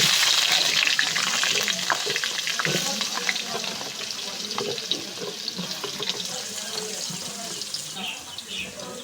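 Potatoes fry in a pan of oil already used for fish and onions, a continuous hissing sizzle close by that slowly softens, with light stirring noises.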